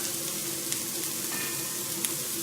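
Olive oil sizzles steadily in a hot pan, a continuous bright frying hiss with a couple of faint clicks and no voices.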